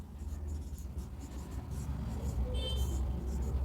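Chalk or marker writing on a classroom board during a lesson, heard as soft, continuous scratchy strokes over a steady low hum of traffic, close and fairly quiet, with no clear voices.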